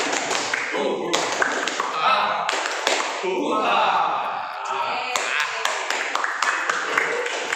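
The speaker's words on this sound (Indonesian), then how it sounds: "Tepuk semangat." A group performs a rhythmic spirit clap (tepuk semangat), a rapid patterned run of sharp hand claps with short pauses between phrases, close and lively, with voices mixed in.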